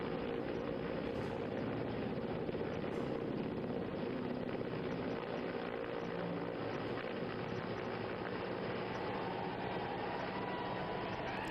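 Army rescue helicopter hovering low over the Tawi river near an under-construction dam, a dense continuous rotor and engine roar that stays steady and loud throughout with no speech.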